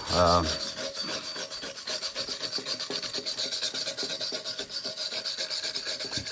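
A wire brush scrubs over a fresh flux-core weld on a budget Hayabusa turbo part, rapid rhythmic rasping strokes, close and steady throughout after a brief tonal noise at the start.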